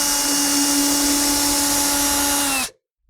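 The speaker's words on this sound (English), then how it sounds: "we're going to start on one side using a drill and an 1/8" drill bit" A power drill with a 1/8 inch bit bores through a plastic airbox on a 3.6L Jeep Wrangler JL, a steady loud whine that runs for a few seconds and then stops abruptly.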